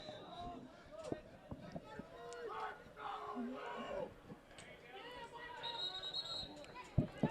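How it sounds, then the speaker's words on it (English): Crowds cheer and shout from the sidelines at a high school boys lacrosse game between Peters Township and Pittsburgh Central Catholic, a continuous wash of yelling voices and whistles with sharp stick clacks, fairly faint and distant. "You can hear teams cheering for their respective sides."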